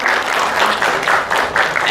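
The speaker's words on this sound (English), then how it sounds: "let's give round of applause for Mr. Only." An audience at a 2018 keynote at the ICCSCI conference applauds, a dense, loud burst of clapping from many hands sustained evenly across the short moment.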